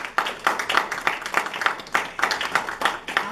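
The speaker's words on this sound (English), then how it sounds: "I'll tell her you clapped." A small audience claps after a poetry reading, a light, uneven patter of hands that keeps a steady rhythm for a few seconds before fading slightly.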